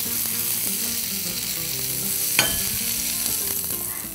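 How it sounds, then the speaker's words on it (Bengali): Prawns fry in oil in a pan, a loud, steady, close sizzle that runs throughout with a single metallic clank near the middle. "চিংড়িটা আমাদের কিন্তু প্রায় ভাজা হয়ে গেছে"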